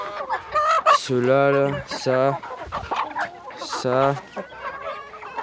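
A big white hen and a white rooster cluck in a farmyard, several loud, close bursts of clucking alternating with someone speaking French between them.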